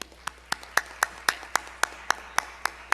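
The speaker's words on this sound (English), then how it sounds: "that's really worth another round of applause for you and your entire staff" Sparse clapping at a school board meeting for the staff, roughly a dozen distinct claps in a slow, even rhythm, moderately loud and close, with a faint low hum underneath.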